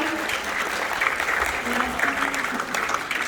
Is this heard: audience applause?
yes